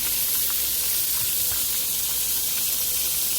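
Flour-dredged mushrooms fry in a pan with a dense, even hiss of hot oil, loud and close, steady throughout with faint pops and no talking.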